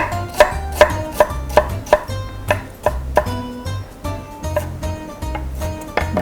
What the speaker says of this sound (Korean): 양파를 다져주세요.